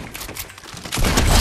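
Gunfire in a competitive shooter video game comes as a quick rattling burst of shots, rising louder and denser in the second half of a brief moment.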